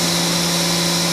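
A Haas VM2 CNC vertical machining center spindle spins at 12,000 RPM, giving a steady, sustained mechanical hum with a strong low tone and a bright high whine, constant throughout and without speech.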